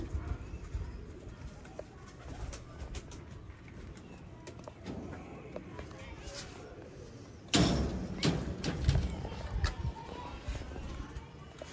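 Bloodline pigeons coo softly in a loft, with a sudden clatter like a door or cage banging partway through, someone speaking over the birds now and then.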